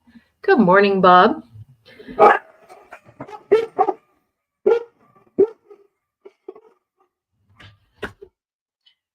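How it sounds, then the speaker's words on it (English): Dogs bark at a rural homestead, a sharp yelping whine followed by several short scattered barks, some near and some farther off, with a person speaking briefly. "I gotta teach these dogs to shut up."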